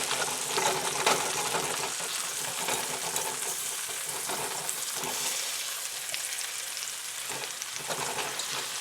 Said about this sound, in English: Just going to drop these potatoes in around the roast. Give them a turn in that butter.